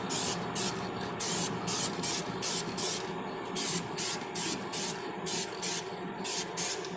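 Dupli-color synthetic lacquer hisses from a spray can onto the hood of a 1966 GTO in quick, rhythmic bursts, about a dozen short sprays with tiny gaps, close and steady with no talking.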